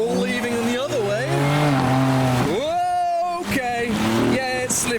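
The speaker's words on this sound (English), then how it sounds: "M4 leaving in the other way." A modified car, a BMW M4, pulls away from a car show in heavy rain, its engine rising and falling through revs, loud and close, over a constant wash of rain and road spray, with a voice talking over it.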